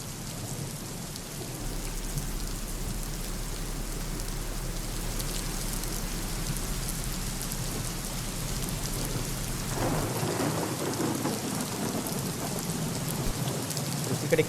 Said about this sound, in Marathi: दुसरीकडे खेड तालुक्यात देखील पावसाचं थैमान पाहायला मिळालं.